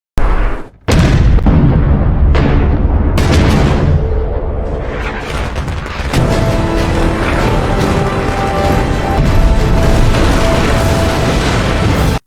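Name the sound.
ships destroyed by cannon fire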